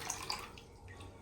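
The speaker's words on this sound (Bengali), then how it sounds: "এবার জল দিয়ে আমি আবার একটু ধুয়ে নেব।" Peeled duck eggs being rinsed with water in a kitchen, a soft splashing and trickling with light drips, quiet and close, steady for about a second with no talking.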